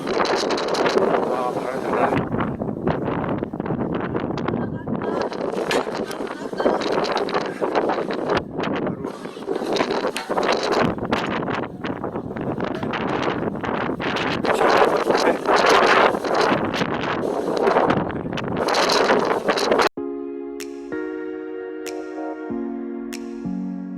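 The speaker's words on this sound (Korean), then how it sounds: "바람이 많이 불어서" Strong coastal wind on a cliff-top stretch of Jeju Olle Trail Route 12 roars and buffets the microphone in loud, surging gusts for about twenty seconds, then gives way to a brief melodic tune.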